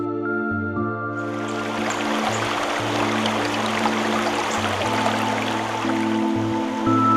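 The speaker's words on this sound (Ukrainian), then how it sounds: "річка зачаровує своєю кришталевою свіжістю і неприборканим гірським норовом" A mountain stream rushes through a rocky ravine, a steady close wash of flowing water, with a low drone from background music layered underneath throughout.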